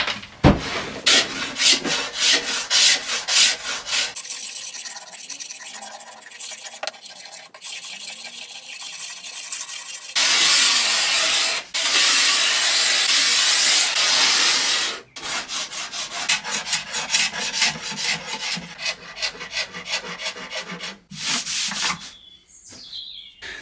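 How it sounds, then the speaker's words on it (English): Metal scraper stripping old finish from a curved wooden Art Deco nightstand: repeated close, raspy scrapes in irregular bursts, with a long steady rubbing stretch midway and brief pauses between strokes, no talking. "These curves can be a bit tricky when you're scraping"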